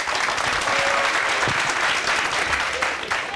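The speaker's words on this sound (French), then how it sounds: "On va l'applaudir pour l'encourager." A small crowd at a casual evening gathering claps to encourage a singer stepping up, with continuous close, dense clapping and no pauses.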